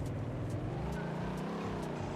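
Audi RS6 in a Roblox driving game, its engine droning steadily and loudly as the car accelerates, with a smooth continuous tone and no talk.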